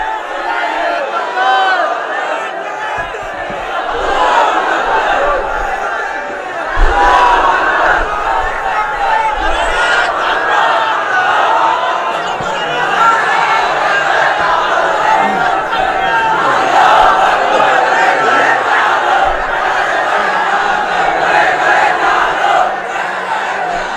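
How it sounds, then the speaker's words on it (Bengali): A large crowd at an Islamic sermon gathering chants a slogan in unison, a loud, sustained roar of many voices swelling in repeated waves, with a leader's voice calling out between the chants. "স্লোগান দেন একজন"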